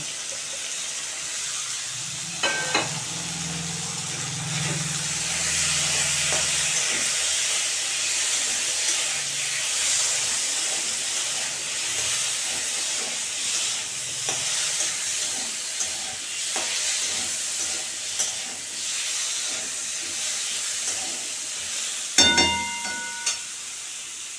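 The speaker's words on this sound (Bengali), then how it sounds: "তো বন্ধুরা ডালটা আমি খুব একটা লাল করে বাজবো না ভাজা হয়ে গেছে" Moong dal and diced potato fry together in oil, a long steady sizzle with scattered scraping stirs and a couple of metallic clinks of a utensil against the pan.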